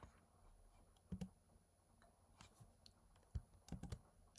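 Quiet, close keystrokes on a computer keyboard, sparse and irregular clicks that bunch into short flurries toward the end, with no talking.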